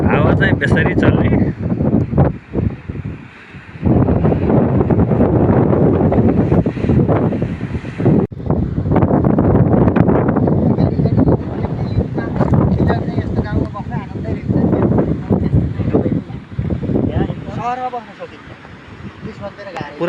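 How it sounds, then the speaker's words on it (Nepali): Strong wind blowing by the sea on the Portuguese coast, a loud gusty roar buffeting the microphone with surf faintly underneath, while a person talks over it. "हावा चाहिँ बेसरी चल्ने।"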